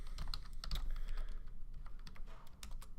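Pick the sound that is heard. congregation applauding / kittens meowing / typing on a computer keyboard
typing on a computer keyboard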